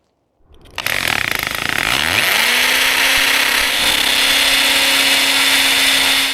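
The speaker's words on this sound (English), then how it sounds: "make your marking, and start to drill your holes" Power drill boring holes into an exterior wall to mount a 40 x 40 inch window awning: the motor starts after a brief silence, spins up, then holds a loud, steady whine close by with no talk.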